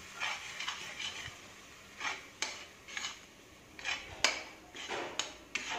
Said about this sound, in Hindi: इस तरह हम चलाते हुए भूनेंगे